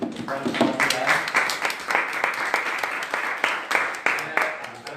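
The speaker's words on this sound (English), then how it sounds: "Round of applause for that." Audience applause for a panel at a campus politics event, a sustained spell of many hands clapping at fairly close range with a dense, uneven texture and occasional louder claps rising out of it.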